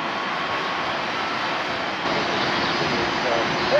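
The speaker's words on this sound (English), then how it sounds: "So we're gonna bring this drone down." A Fimi Mini drone flies and comes in to land at the beach, producing a steady, loud, broadband whirring hiss that stays constant throughout and rises slightly near the end.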